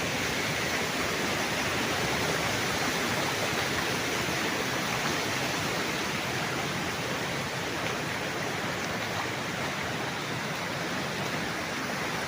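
Steady rushing of water flowing down an irrigation canal on a farm lot by a river in Majayjay, Laguna, a continuous broadband wash that stays loud and even throughout with no pauses.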